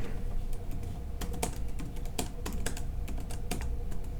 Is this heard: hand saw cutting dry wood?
no